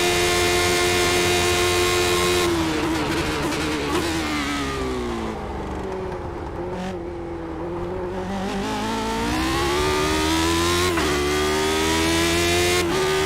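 Race car engine at Monza in iRacing, a loud, sustained high-pitched roar with harmonic whine that dips through a braking section and climbs again as it accelerates, heard alone.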